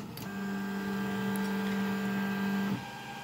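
A Tronxy P802MA 3D printer auto-homing gives a steady, close mechanical motor whine that starts abruptly, holds an even pitch for about two and a half seconds, then cuts off over a faint background hum.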